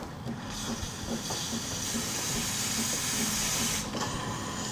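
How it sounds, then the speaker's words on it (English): Steam wand of a Breville espresso machine purging, a loud steady hiss with a faint rhythmic pulsing underneath that cuts off briefly near the end, close by and with no talk. "Simultaneously, I can get my steam wand purging"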